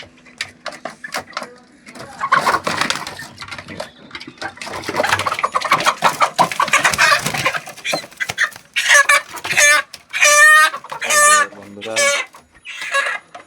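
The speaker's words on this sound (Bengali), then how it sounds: "এই যে দেখতে পাচ্ছ মুরগগুলা কিন্তু অনেক বড় হয়ে গেছে" Domestic chickens raised at home cluck loudly in repeated bursts near the listener, with a rooster among them; a person talks over the first half before the hens' calls dominate.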